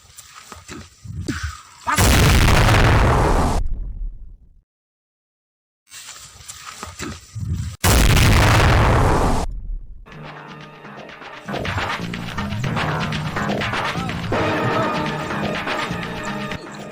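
Two heavy booming blasts from a sound effect in a comedy skit, each a loud roar that rumbles and fades, separated by a brief silence, followed by dramatic music.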